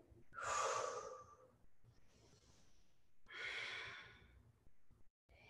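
Two long, audible breaths are pushed out during a yoga flow, close to the microphone, each a breathy rush lasting about a second, with quieter breathing between them.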